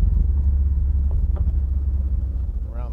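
A 1956 Chevrolet Bel Air rumbles as it drives, its engine giving a deep, steady low throb heard from inside the car, with a brief faint voice near the end.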